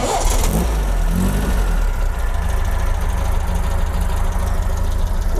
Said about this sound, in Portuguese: eu quero ver esse ronquinho desse escape